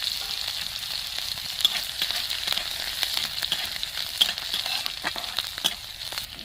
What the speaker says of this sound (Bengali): ফড়ন হিসেবে জিরে দিয়ে দিচ্ছি আদা কুচি লঙ্কা কুচি গোটা পান পানমৌরি